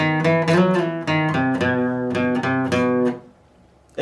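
An electric guitar plays riff B of a song, a clean run of several distinct picked notes in a steady rhythm that ends abruptly and leaves near silence.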